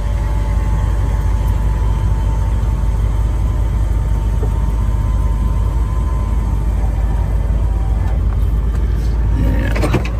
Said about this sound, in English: And the blower motor works.